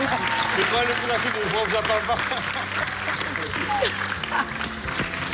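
Studio audience applause on the Antenne Réunion talent show Runstar 2013 fills the whole stretch, a steady dense roar of many hands with a voice and some music showing through underneath.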